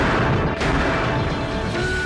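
A deep, booming explosion sound effect in a documentary about submarine disasters, loud and sustained throughout with a rumbling wash and a brief dip partway through.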